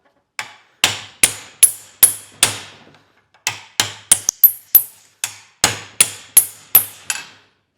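Hammer striking steel clamped in a fuller held in a vise during blacksmith forging: a series of sharp, ringing metallic blows in two quick rhythmic runs separated by a brief pause, close and loud.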